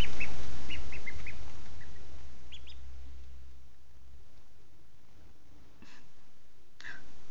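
Several short, high peeps from Cayuga ducklings two to three days old early on, then quieter rustling and a couple of brief calls near the end.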